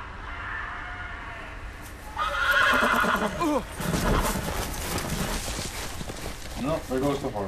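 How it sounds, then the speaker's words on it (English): A horse whinnies loudly in the Game of Thrones video game, its neigh rising and fluttering mid-clip, with hoof clip-clops, background game audio and a talking voice around it. "No, there goes the horse"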